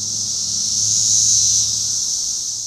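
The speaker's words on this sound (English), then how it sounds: "I do like the noise of the cicadas." Cicadas buzzing loudly in a heavy infestation, a dense, continuous high-pitched drone that swells slightly and then eases, with a low hum beneath and no talk.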